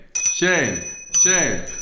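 A small bell rings twice about a second apart, each time a bright, sharp ring that lingers briefly. A voice sounds along with each ring.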